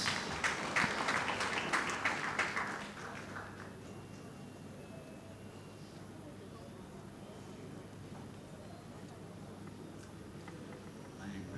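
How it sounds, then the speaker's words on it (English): An audience at a media awards ceremony claps briefly for an honoree, a short burst of scattered hand clapping lasting a few seconds before dying away into a quiet room with faint background voices. "Let's clap for him, please"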